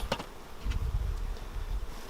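Honey bees buzz from an opened, strong colony during a hive split, a close, steady drone with a few louder passes of single bees near the ear.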